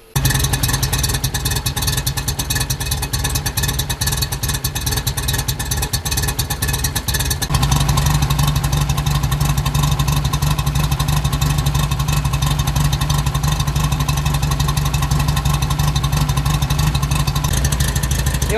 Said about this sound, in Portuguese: agora sim a gente vai precisar que o motor esteja quente